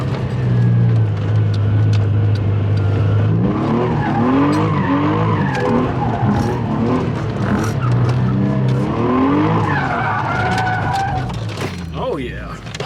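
A drifting car's tires squeal and skid loudly and continuously, the howl rising and falling as the car slides, with engine roar beneath and someone talking over it throughout.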